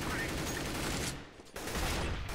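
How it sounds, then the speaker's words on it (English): Gunfire during a Counter-Strike: Global Offensive competitive match, a dense noisy burst of shots with a brief dip partway through, heard at moderate volume amid game noise. "I headshot my teammate!"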